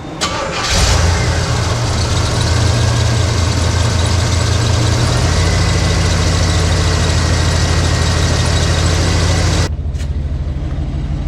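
Oldsmobile 350 V8 fitted with Sniper EFI in a Cadillac Brougham cranks over, catches and settles into a steady, loud, close-up idle with a low rumble, the note shifting slightly partway through before a brief dip near the end.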